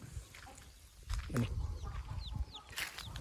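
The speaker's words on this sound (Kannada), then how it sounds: "ಕೋಳಿ ಮರಿಗಳು ನೋಡಿ ಇದರಲ್ಲಿ ಒಂದು ಹದಿನೆಂಟು ಮರಿ ಇದೆ" Several short, high chick peeps come in quick bursts, most of them near the end, over a low background rumble and some faint thumps.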